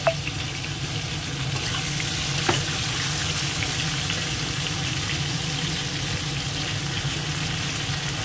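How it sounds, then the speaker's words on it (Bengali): Mango pieces frying in oil in a pan for a pickle, a steady broadband sizzle that persists throughout, with occasional soft clinks of a stirring utensil; no talking. "আমগুলো একটু নাড়িয়ে নাড়িয়ে এইভাবে লাল লাল করে ভেজে নিচ্ছি।"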